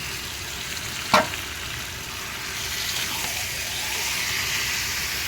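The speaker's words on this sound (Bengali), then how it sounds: "বন্ধুরা এদিকে চিকেনটা ঢেলে দিলাম।" Chicken hits a hot pan with a sharp splash, then settles into a loud, continuous frying sizzle that gradually swells and stays steady, no speech over it.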